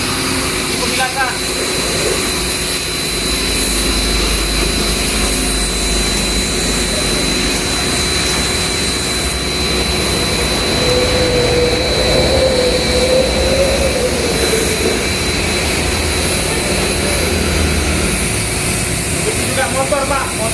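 An Ava P25 high-pressure washer rinsing a car runs as a loud, steady jet-like roar and hiss that holds unbroken from start to finish.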